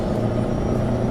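A Volvo truck engine in American Truck Simulator hums in a deep, steady low drone, loud and continuous with no speech over it.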